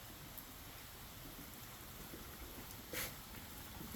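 Steady heavy rain falls all day outdoors in Florida, a constant dense hiss with a faint brief rise near the end and no talk.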